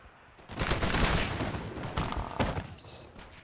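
Massed musket volley fire from infantry in a Russia versus France battle game, a crackling burst of many overlapping shots followed by scattered further reports, with a voice over it.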